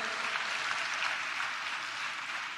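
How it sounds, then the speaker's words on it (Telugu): A church congregation claps together in sustained, dense applause that stays steady and fairly loud throughout, with no voices standing out. "చప్పట్లు కొడుతూ దేవునికి స్తోత్రాలు చెప్దాం."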